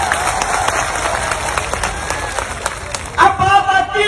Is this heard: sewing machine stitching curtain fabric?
no